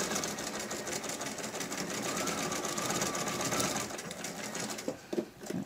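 A sewing machine stitches a fabric face mask with a noseband and filter pocket. Its motor whirs fast and evenly up close, with a few light clicks near the end.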